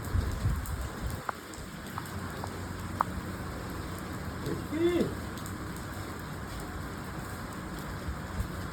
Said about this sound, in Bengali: এই ঝড় সত্যিকারের বৃষ্টি পড়ছে